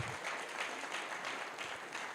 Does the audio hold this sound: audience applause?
yes